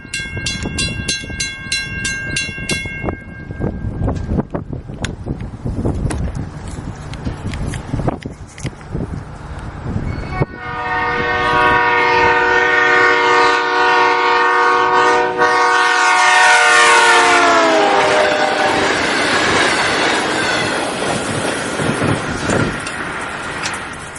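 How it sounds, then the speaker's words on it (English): A fast-moving train passes with its whistle blaring. Rail clatter builds, then a loud, sustained multi-tone horn sounds for over ten seconds, its pitch dropping sharply as it goes by before the rumble fades. "Now you are going to listen to the whistle of a fast moving train."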